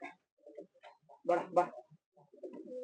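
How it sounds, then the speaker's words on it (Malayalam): A female pigeon coos in soft, low, throaty bursts, with a stronger double coo near the middle, close by and fairly quiet. "ഇതൊരു ഒരു ബൂതി ചാമ്പ ടച്ചപ്പുള്ള പ്രാവ് അതിന്റെ ഫീമെയില്"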